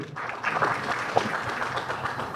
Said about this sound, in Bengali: রিমার্ক হারলানের জন্য একটা তালি হোক